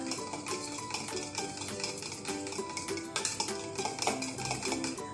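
Vegetable oil and vanilla essence being mixed in a bowl for chocolate cupcakes, with busy clinking and scraping of a utensil against the bowl, close and continuous.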